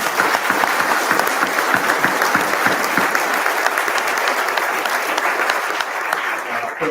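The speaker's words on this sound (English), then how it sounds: "Please give them a round of applause." An audience gives a sustained, dense round of applause at a military retirement ceremony, steady and fairly loud for the whole stretch, tapering slightly near the end.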